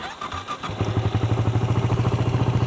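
A motorcycle in neutral is started with the button: a brief starter crank, then the engine catches and settles into a steady, close, loud rhythmic idle with a regular throbbing pulse.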